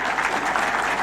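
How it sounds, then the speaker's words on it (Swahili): Audience clapping at an outdoor presidential development tour event on the Kenyan coast, a dense, steady round of applause filling the whole brief moment. "Twanga makofi kidogo."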